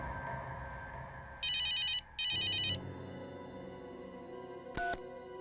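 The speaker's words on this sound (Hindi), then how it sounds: "अभी 1 मिनट में फोन की रिंग बजेगी" A telephone rings in two loud electronic bursts, close and alone, followed moments later by a short higher beep, over a quiet dramatic background hum.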